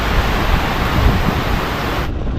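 Water rushing hard beneath a roadside culvert during the rainy season, a continuous broad roaring wash with no breaks, steady and fairly loud throughout.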